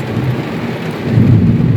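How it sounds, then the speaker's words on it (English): Heavy rain pours steadily outside a post office side door, a dense continuous roar with low thunder rumbling beneath it, loud and close. "I thought maybe the rain would let up and let me go in, but it's not letting up"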